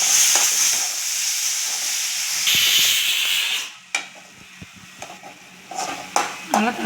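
Tomatoes dropped into a pan of softened onions for a thatta payaru kuzhambu, sizzling and hissing loudly, then quieter frying with a few sharp clinks and stirring scrapes.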